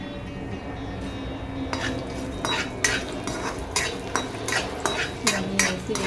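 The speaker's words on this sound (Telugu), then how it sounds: "మిరపకాయలు ఇవి వేగుతున్నాయి." Dried chillies, cumin, garlic and onion fry in a pan for onion chutney, with a steady sizzle under repeated scraping and clinking of a metal spatula stirring against the pan.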